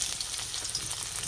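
Onions fry in hot mustard oil in a wok, giving a dense, steady, close-up sizzle and crackle with no voices.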